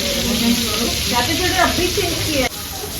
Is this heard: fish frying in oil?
yes